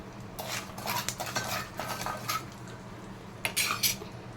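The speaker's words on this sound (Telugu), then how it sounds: "ఇలా కొద్దిసేపు కలుపుకున్న తర్వాత ఇలా మంచిగా కలిపిన తర్వాత" A metal spoon scrapes and clinks quickly against a pan as turmeric and salt are stirred together over low heat, a quiet run of close, busy taps with a brief pause before a final burst.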